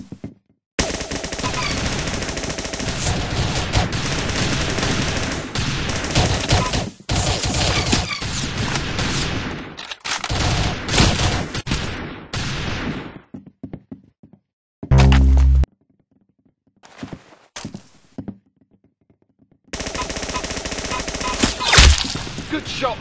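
Rapid bursts of gunfire in a video game shooter fight, loud dense volleys broken by short pauses, with a few isolated heavy shots and near-silent gaps toward the end.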